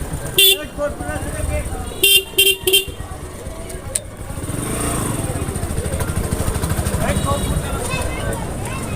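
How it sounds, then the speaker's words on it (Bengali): Road traffic idles and rumbles nearby while several short car horn honks sound in quick succession, with voices talking over the engine noise. "এদিকে জ্যাম লাগে গেছে"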